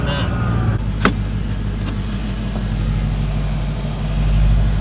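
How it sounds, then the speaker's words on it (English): A Koenigsegg supercar heard from inside the cabin on a traffic-filled road, its engine a steady low drone at part throttle, with a couple of faint clicks and a slight swell in rumble near the end. "The first time ever in a Koenigsegg, it wasn't even like full throttle."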